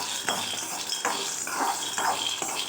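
Green gram dry-roasting in a pan for sweet Pongal, with steady scraping and stirring strokes of a spoon against the metal and a faint crackle, close and continuous with no talking.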